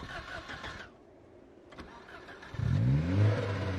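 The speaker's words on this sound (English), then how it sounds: "the engine keeps trying to cut off" Car engine in the zombie survival game Project Zomboid cranks and sputters, then catches and runs with a rough, uneven growl that grows louder near the end.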